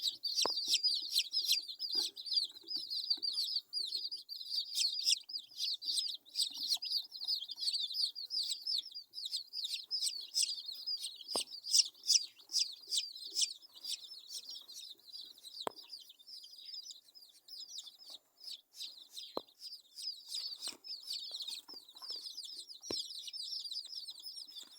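A dense, continuous chorus of high peeping from many young chicks in a brooder made from old tires, steady and close for the whole stretch, with occasional faint knocks underneath.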